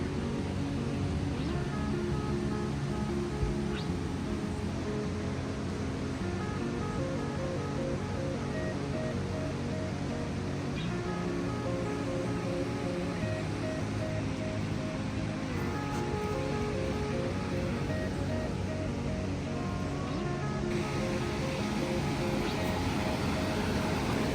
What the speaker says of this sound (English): Literally, as you step out, you can just hear the rushing of the river.